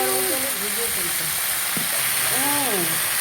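Long beans and potatoes fry in hot oil with a steady broadband sizzle throughout, while a voice talks over the cooking.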